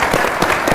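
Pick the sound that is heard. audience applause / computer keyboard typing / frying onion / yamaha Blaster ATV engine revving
audience applause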